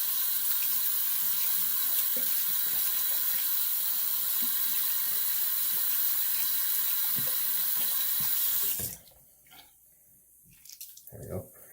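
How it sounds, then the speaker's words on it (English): Cold tap water runs hard into a bathroom sink as a shaving brush is rinsed, a loud steady hiss for several seconds before the tap shuts off, leaving quiet handling noises and a faint voice. "I'm going to rinse the brush out with cold water"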